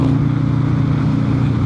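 A Harley-Davidson Sportster with a 135 ci crate engine pulls past cars, its deep, steady exhaust rumble loud and close throughout the short stretch, with no talking.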